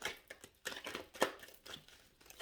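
Tarot cards are shuffled in quick, irregular bursts of soft papery riffling and flicking, faint and close, with short pauses between.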